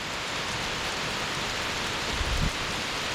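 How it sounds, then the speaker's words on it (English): Steady heavy rain falls on and around the roof of Catawba shelter on the Appalachian Trail in Virginia, a dense continuous hiss with a faint low rumble near the end. "you can hear this rain"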